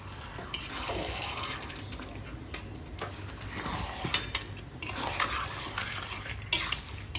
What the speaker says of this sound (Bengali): দেখো আমি এখন সুন্দর করে কষিয়ে নিচ্ছি